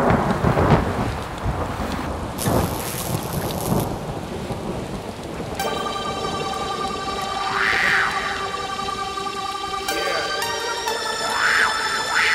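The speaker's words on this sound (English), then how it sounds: "Pouring rain, thunder" Heavy rain pours steadily through a thunderstorm with rolling thunder, layered under sustained droning electronic tones in a hip-hop track, loud and continuous with no talking.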